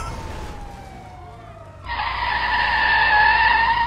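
A car in GTA Online skids and spins out. A low drifting tone gives way midway to a loud, sustained tire screech that holds steady until it cuts off at the end.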